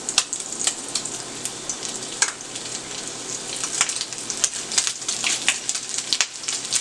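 Bacon sizzles and crackles steadily in a frying pan of rendered fat, a dense close hiss broken by sharp spitting pops that grow busier toward the end, with no voices.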